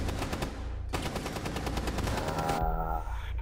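Rapid automatic gunfire rattles in a video game, a dense, loud string of evenly spaced shots that breaks off briefly, then resumes in a second burst and fades out.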